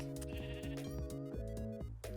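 Repeated Minecraft sheep bleats, several overlapping cries in a steady rhythm over constant background music, loud and close.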